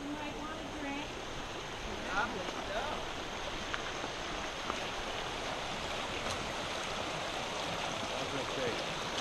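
A mountain stream in Indian Canyon near Palm Springs rushes with a steady broadband wash of flowing water, constant and fairly close, while people talk quietly nearby.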